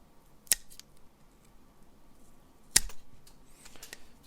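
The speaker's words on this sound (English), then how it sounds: "So what we're going to have to do is just snip that little corner piece off." Scissors snip the corner off a plastic tray for an SCX24 budget RC crawler build, two crisp isolated cuts close by in a quiet room, the second slightly louder.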